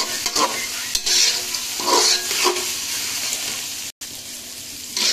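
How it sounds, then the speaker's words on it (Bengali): Rice frying in a pan while being stirred, giving steady close sizzling with repeated scraping strokes of the spoon, then a short break near the end before the sizzle resumes. "চালটা ভাজার ভিতরে স্বাদ আছে, ভালো করে ভাজতে হবে। ভালো করে নেড়ে দিবেন।"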